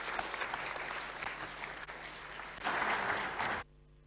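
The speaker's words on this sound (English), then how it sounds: "Let's give him a round of applause." Audience applause at a tech conference talk, a steady wash of clapping from a room full of people that swells briefly near the end before cutting off.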